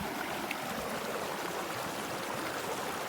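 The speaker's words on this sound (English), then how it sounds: "the creek splits off and it's cutting the land" Mountain creek in Colorado splitting around big boulders, a steady, quiet rushing of flowing water with constant babble and no voices.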